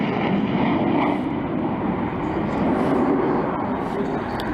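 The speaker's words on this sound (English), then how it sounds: "But here we have the very latest Harrier version" A loud, sustained roaring jet rush from the latest composite-winged Harrier jump jet, a STOVL aircraft flying at an air display, holding steady and close without a break.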